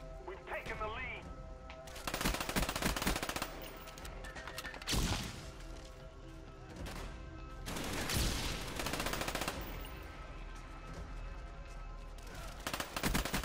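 Rapid bursts of MAC-11 submachine gun fire in Call of Duty Black Ops, loud crackling volleys and explosions-like crashes repeating across the stretch, with someone talking over the shooting.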